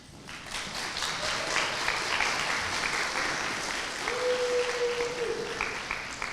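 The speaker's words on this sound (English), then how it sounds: "turn around, give them a round of applause." Steady applause from a graduation audience honoring parents, teachers and supporters at a Gwinnett County Youth Commission ceremony. The clapping is dense and sustained for several seconds at moderate loudness, with faint tonal sounds drifting through it.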